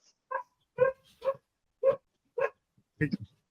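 Dogs barking in a series of about six sharp, separate barks spread evenly over a few seconds, fairly close and moderately loud against a quiet background.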